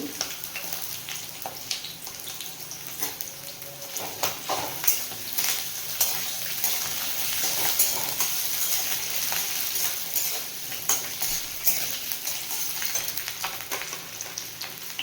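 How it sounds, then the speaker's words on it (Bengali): Green chilies and tomatoes frying in a pan for a chicken dish, a continuous hiss of sizzling oil broken by frequent sharp pops and crackles and some stirring clatter. "কাঁচা লঙ্কা আর টমেটোটা সব ভেজে নেব প্রথমে"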